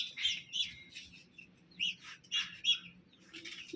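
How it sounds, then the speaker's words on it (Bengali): Ducklings peep in short, high, faint chirps that come in small bursts, with quiet gaps between them. "এই দেখেন আমাদের হাঁসের বাচ্চাকে"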